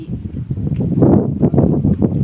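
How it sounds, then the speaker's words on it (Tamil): Wind gusts buffet the microphone at a temple in Manapparai, a continuous rough, rumbling rush of moving air that swells and eases. "அருமையான இயற்கை காற்று, சரியான இயற்கை காற்றோட பார்த்திங்கன்னா"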